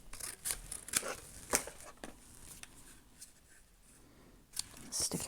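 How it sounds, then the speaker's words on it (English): Scissors snip paper for a collage, several crisp close cuts spaced irregularly among soft paper handling, quiet overall with faint speech nearby. "I'm going to cut it though."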